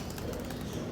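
Pigeons fluttering and cooing at a loft landing board, a steady dense bed of nearby bird sounds with soft wing movement and no talk.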